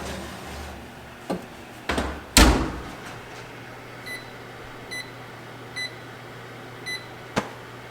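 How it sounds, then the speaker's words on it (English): A kitchen oven timer gives four faint, evenly spaced beeps after a few louder thumps and clunks, in an otherwise quiet kitchen where goat meat and bell peppers are cooking. "the 30-minute timer just went off"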